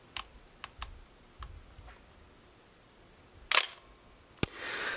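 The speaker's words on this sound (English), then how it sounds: "And then here's a really fast shutter speed." A film SLR camera fires at a very fast shutter speed, giving a crisp close snap followed by a second click, with several soft handling taps on the camera body before it in a quiet room.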